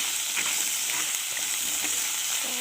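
Turmeric sizzles and fries in a hot pan while being stirred, a steady close hiss with small scraping stir sounds scattered through it, no voices.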